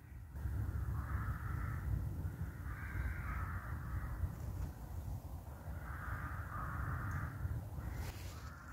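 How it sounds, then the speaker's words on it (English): Crows caw and squabble in outdoor woodland on a cold day, harsh calls coming in repeated bursts over a steady, rumbling background. "Is that the crows fighting?"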